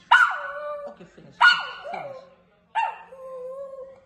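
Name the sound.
dog barking at a landline phone ringtone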